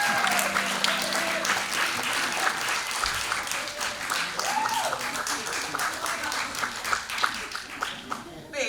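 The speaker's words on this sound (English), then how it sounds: "Big round of applause for Legend." A poetry summit audience applauds after a young poet's piece, steady dense clapping across the whole stretch with faint voices murmuring underneath.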